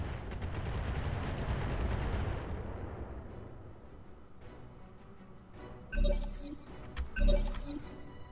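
Missiles fire from the back turret in the video game Roguepoint: a dense roar of launches fades out, then two sharp bright blasts with metallic clinks ring out near the end.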